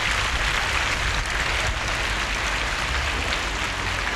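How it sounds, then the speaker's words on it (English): Children clap together during a classroom lesson for Saint Lucia's Independence Day, a steady, dense patter of hand claps that fills the whole stretch at close range without a break. "Give yourself a clap for remembering"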